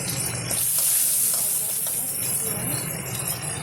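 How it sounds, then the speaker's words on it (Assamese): Pabda fish fry in hot oil in a pan for an Assamese fish tenga curry, a loud close sizzle with stirring and steam hiss running steadily throughout. "এয়া মাছ ফ্ৰাই কৰি আছোঁ"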